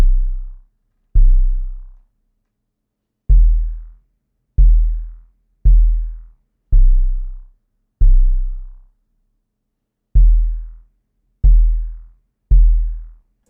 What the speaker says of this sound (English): I got this 808 from my 2K stash kit